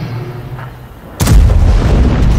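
A tank cannon in a video game fires one heavy boom after a quiet, low rumbling lull, leaving a dense, lingering roar afterward.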